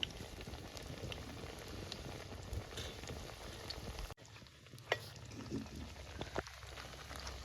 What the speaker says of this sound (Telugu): బ్రౌనిష్ కలర్ వచ్చే వరకు వేయించుకోవాలి